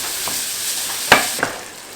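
Pork mince and vegetables sizzle steadily in a pan, close and alone, with a couple of sharp scrapes as the mixture is stirred.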